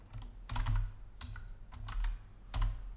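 Keys clatter on a computer keyboard in a few quick bursts separated by short pauses, close and moderately loud, with no voices over the typing.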